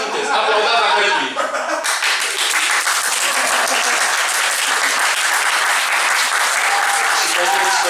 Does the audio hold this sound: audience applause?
yes